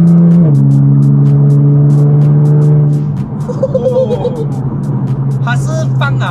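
A modified 600HP Nissan GT-R engine drones loudly and steadily up close. Its pitch dips early, then it settles into a rough, rumbling rev with some background voices.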